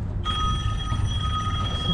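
A mobile phone rings during rohu fishing outdoors, a steady electronic ringtone of sustained tones that starts abruptly and continues loud and close, with no speech.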